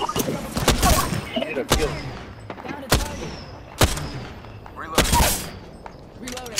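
Sniper rifle shots from a triple-take sniper in a multiplayer video game, sharp loud cracks every second or so, with excited players talking over the gunfire throughout.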